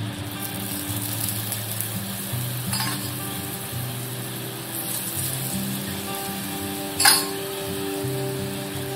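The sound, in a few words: shepu paratha roasting in oil on a griddle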